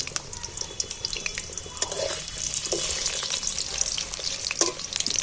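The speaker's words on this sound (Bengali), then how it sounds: "আমি আলুগুলো তেলের মধ্যে, তেল গরম হয়ে গেছে, তুলে দিচ্ছি" Potatoes crackle and sizzle in hot oil, a dense, steady fry with sharp pops and occasional stirring scrapes, close by.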